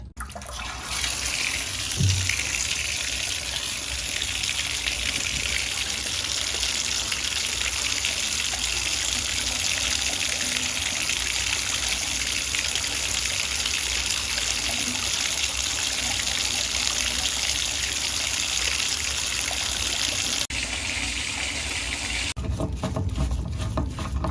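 Water runs steadily from a bathtub drain that has just been unclogged, a loud continuous rushing gurgle lasting about twenty seconds before it changes tone and cuts off near the end.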